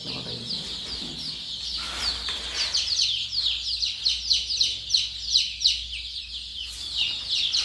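A chicken clucks repeatedly in short rhythmic bursts close by while being held for beak trimming by searing, with some higher chirps and a low hum underneath.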